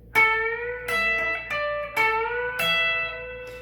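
Five plucked electric guitar notes, each sliding up in pitch as the string is bent, ringing out clearly and sustaining with no talking.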